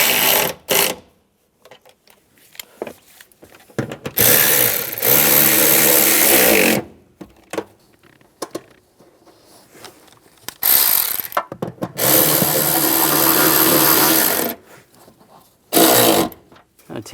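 A power tool whirs in loud bursts of a few seconds each, separated by quiet gaps, tightening the antenna base nuts on a 2007-2013 Chevrolet Silverado, with some talk between bursts.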